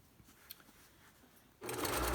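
A sewing machine stitching fabric for a face mask starts up abruptly after a quiet moment of faint handling noise, then runs in a loud, steady close-up whir.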